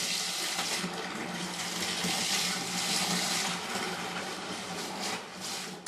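Cold tap water runs steadily into a beer fermenter while diluting concentrated wort for home brewing, a close, continuous broadband splashing rush with no talk over it.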